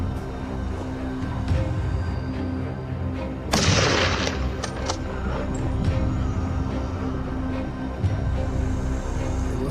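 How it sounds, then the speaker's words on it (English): Gunfire during a wild boar hunt, a distant boom and a few fainter cracks over steady outdoor rumble. "Gunshots rang out constantly as all the remaining hunters focused on these"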